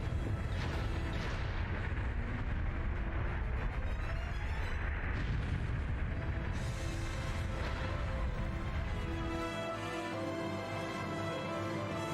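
Railway cannons fire in a battle scene from Trails of Cold Steel 4, rolling heavy booms and eruptions blending into a thick roar that thins out near the end.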